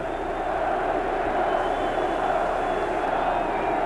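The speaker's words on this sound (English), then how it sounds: "Now they're yelling LT, LT." A football stadium crowd at a 1993 NFL playoff game between the Minnesota Vikings and New York Giants chants "LT", heard as a steady, dense roar from a large, distant mass of fans with no pauses.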